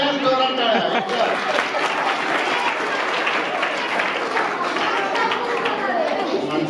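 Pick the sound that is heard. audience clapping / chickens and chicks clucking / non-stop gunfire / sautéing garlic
audience clapping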